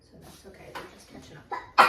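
A single sharp sneeze bursts out near the end, close and loud, right after a few quiet spoken words from people at a home math lesson.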